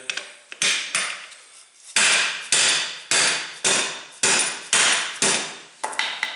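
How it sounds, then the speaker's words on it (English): A dead blow hammer taps a portable bead breaker in a steady series of about nine solid, ringing strikes. The blows are close and loud, with a short decay after each one. "I like to take a dead blow and just kind of tap the back a little bit"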